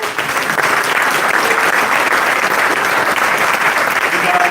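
An audience at a driver's meeting for the Tire Rack One Lap of America claps loudly and continuously, a dense, sustained wash of applause from a large crowd.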